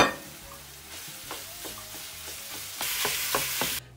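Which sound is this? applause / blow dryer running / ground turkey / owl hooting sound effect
ground turkey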